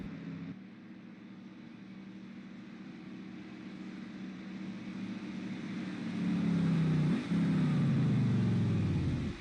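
Race cars rolling down pit road in a racing video game, a steady engine drone with a low rumble that rises in pitch and grows louder as the cars approach, with no talk over it.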